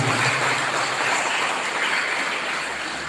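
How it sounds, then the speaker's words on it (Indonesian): Audience applause fills the hall at an inauguration ceremony for a Nahdlatul Ulama board in Tasikmalaya, a dense, steady wash of clapping that stays loud for the whole stretch. "Tepuk tangan untuk JKHNU."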